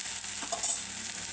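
A spoon stirs bitter gourd curry with turmeric in a hot pan, a quick scraping stir over a steady close sizzle of frying, brief and without talk.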